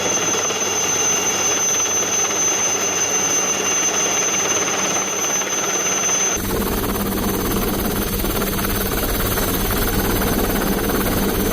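A loud, steady Indian Coast Guard helicopter drone of rotor thump and engine whine runs continuously during flood rescues in Gujarat, its tone shifting abruptly partway through.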